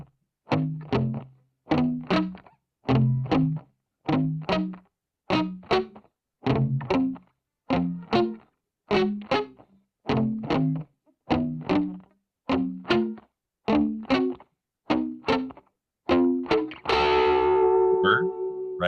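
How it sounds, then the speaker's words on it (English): Palm-muted guitar notes run through effects, about twenty short chugging plucks in a steady rhythm, ending with a sustained ringing chord, close and alone. "So I took these notes and palm muted them so they sound like this."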